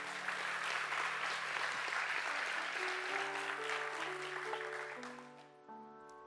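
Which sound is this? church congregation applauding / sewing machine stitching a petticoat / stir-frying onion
church congregation applauding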